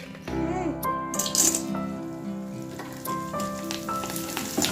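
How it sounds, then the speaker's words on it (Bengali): Papad frying in hot oil, a steady crackling sizzle close by with a faint clatter of utensils, while voices and music-like tones sit over the cooking noise. "তেলটা গরম হলে পাঁপড়গুলো সুন্দরভাবে পাঁপড় ভেজে দিলে খুব খুশি"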